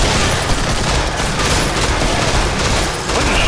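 Dense, continuous gunfire in Killing Floor, a loud rattle of overlapping automatic shots with no let-up, heavy and close.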